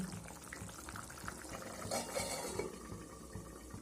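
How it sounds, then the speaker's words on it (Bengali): Cabbage curry with potatoes bubbles in a covered pot on medium heat. The simmer is soft and steady, a continuous low gurgle with a few faint clinks near the middle, and no voices. "এখানে দেখুন খুব সুন্দরভাবে রান্নাটা ফুটছে"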